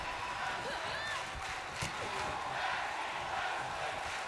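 A wrestling crowd in WWE 2K22 calls for tag team action during an IMPACT fatal four-way match, a steady roar of many voices held under a commentator talking throughout.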